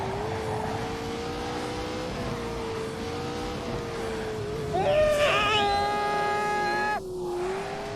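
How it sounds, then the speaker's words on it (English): A McLaren supercar driven in The Grand Tour video game, its engine drone holding steady and then rising sharply in pitch as it accelerates, loud and close with no talk over it. "Apparently I'm going to drive it again as the McLaren V1."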